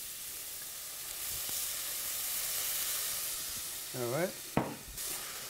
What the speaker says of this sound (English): I deglaze them with a little bit of white wine